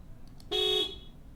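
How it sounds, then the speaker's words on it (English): A single loud taxi horn blast in a video game, steady and sustained for about a third of a second, following two faint short beeps against quiet background. "That's a taxi, they hoot a lot."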